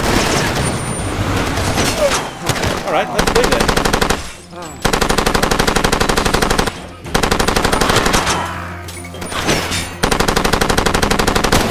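Machine pistol gunfire in Far Cry 2, loud sustained automatic bursts with brief pauses between volleys, some faint voice underneath.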